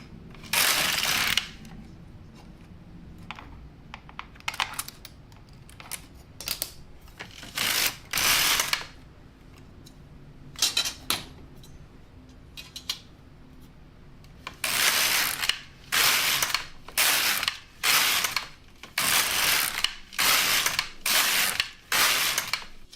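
A Silver Reed LK-150 knitting machine knits acrylic yarn. Its carriage makes repeated loud ratcheting sweeps, sparse at first and then coming in a quick regular back-and-forth run, with quiet gaps between passes.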